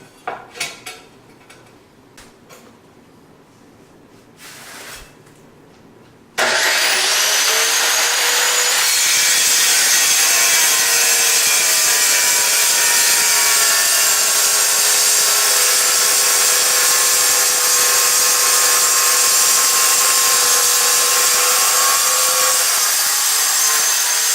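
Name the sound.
wet saw cutting shower tile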